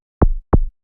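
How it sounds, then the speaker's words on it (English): Two synthesized kick drum hits with a snappy attack and a lowered pitch envelope, each a short punchy thump dropping into a low tail, evenly spaced, loud and isolated in silence. "You can now control the shape of the snappy sound by increasing the pitch of the envelope."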